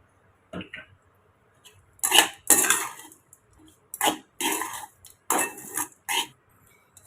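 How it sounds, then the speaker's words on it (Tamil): Lemon rice being mixed in a pot, heard as separate bursts of metal spoon scraping and clattering against the pot, with quiet gaps between strokes. "இப்போ நம்ம கலந்து விட்டுக்குங்க."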